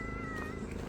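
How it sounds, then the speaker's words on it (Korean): A cat gives a brief, faint mew outdoors along a lakeside path, heard close but quiet over a soft background hum. "고양이들"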